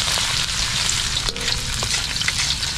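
Garlic sizzles in a small amount of cooking oil, a steady, close frying crackle with faint stirring scrapes, no voices over it.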